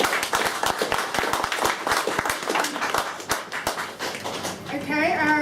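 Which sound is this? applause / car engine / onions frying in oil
applause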